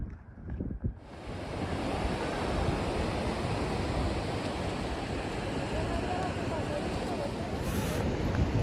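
Ocean waves and wind at a cloudy, cold Pismo Beach make a loud, steady roar of surf and gusting wind buffeting the microphone, rising in after a brief quieter opening and holding constant throughout.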